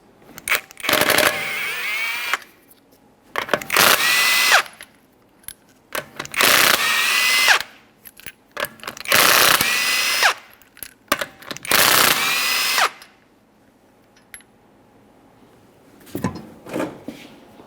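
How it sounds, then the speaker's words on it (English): An impact wrench or similar power tool spins off the five 21mm lug nuts from a raised front wheel of a 2011-2020 Toyota Sienna, in four or five loud whirring bursts separated by short pauses. "remove all 5 of your 21mm lug nuts"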